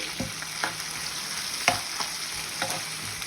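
Tomatoes frying in a pan for Andhra pappu charu, a steady close sizzle broken by several sharp scrapes and stirs of a spatula, with no voices over it.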